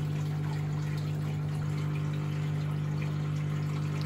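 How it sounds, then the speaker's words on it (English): A Bosch WFF1401 washing machine draining after a bearing replacement, a steady loud pump hum with rushing water flowing continuously and close by. "It's a lot of water coming out of it."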